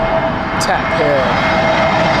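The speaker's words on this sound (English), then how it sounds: "A320 Neo." An Airbus A320neo jet comes in to land at Heathrow Airport on a crosswind day, a loud, steady engine roar filling the whole stretch with a faint rising whine, under light background noise.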